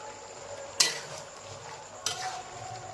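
Chicken pieces being fried and stirred in a pot with chilli powder, cooked over a coal fire: two sharp scrapes of a spoon against the pot cut through a low, steady sizzle, with no talking.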